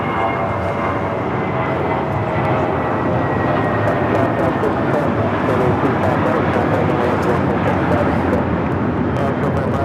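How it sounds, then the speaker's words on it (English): Spirit Airlines Airbus A320 taking off from LAX bound for Newark, a steady broadband jet roar that holds loud and continuous throughout, with voices talking over it. "This is Spirit Airlines 604 taking off to Newark on the A320"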